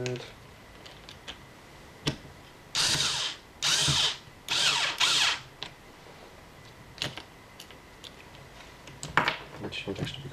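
Fittings being refitted to the center console of a Daihatsu Copen, with several short bursts of whirring, drill-like mechanical noise and scattered clicks and knocks nearby, no talking.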